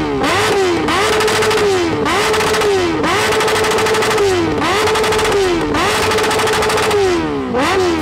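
A motorcycle engine is revved hard in repeated bursts, each climbing in pitch and dropping back roughly once a second, loud and close with no talk over it.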